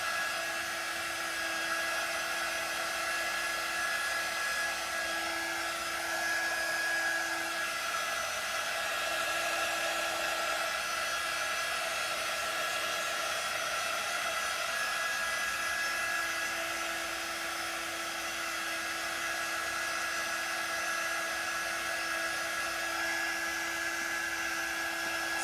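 A hair dryer runs steadily on chalk paint, a loud, constant whooshing drone with a fixed whine that holds without a break.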